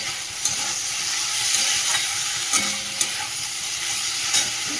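Vegetable curry with ginger, cumin, coriander, chilli and tomato sautéing in a pan, giving a steady close hiss and sizzle with a few sharp scrapes and knocks of a stirring spoon.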